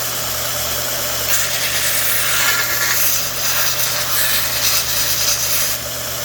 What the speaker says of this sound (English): This is my homemade sander for anybody who's never seen it.